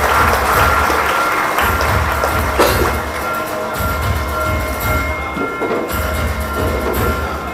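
Loud, sustained applause from a large audience at a political party workers' rally in Panvel, a dense steady roar of clapping filling the space without pause.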